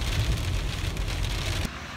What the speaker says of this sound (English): And it is really raining outside.